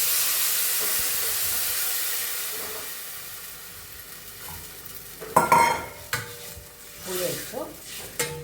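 Sliced onions sautéing in a pan for a tamarind curry, a soft sizzle with scattered stirring scrapes and clinks that grow busier in the second half.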